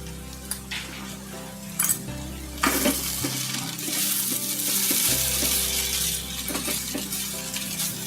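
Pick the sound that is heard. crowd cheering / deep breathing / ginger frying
ginger frying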